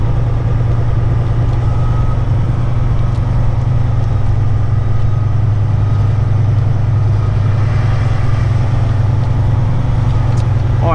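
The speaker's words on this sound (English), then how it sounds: "fairing on my exhaust pipe on the right makes a lot of noise" Kenworth heavy truck idling with a steady low engine drone, a loose exhaust pipe fairing on the right adding a constant buzzing rattle; continuous and close, no talk.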